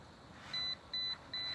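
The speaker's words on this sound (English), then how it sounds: "There's the beeps." An ICECO TK450-GC travel kettle gives three short, evenly spaced high electronic beeps, clean and fairly quiet against a low background hum.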